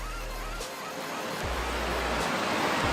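A waterfall below a trekking trail in a mining-area valley gives a steady, broadband rush of falling water throughout, with faint low rumbles underneath.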